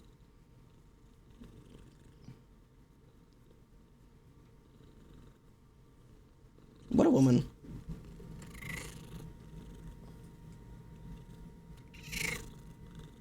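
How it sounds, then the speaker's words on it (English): A cat purrs steadily and softly at close range on a desk, with a loud brief burst near the middle and a short meow-like sound toward the end, while a person speaks briefly. "Did you hear those meows?"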